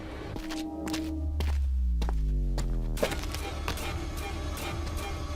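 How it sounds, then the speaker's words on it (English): Heavy, hollow thuds of footsteps clumping across a hollow wooden ramp, with a low resonant hum swelling underneath and a sharp knock midway. "it made a very distinct, hollow thud clump sound when anyone walked on it"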